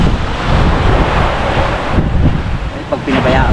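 Sea waves wash around a boat at sea, heard as loud, continuous surf roar mixed with heavy wind buffeting the microphone, with no speech.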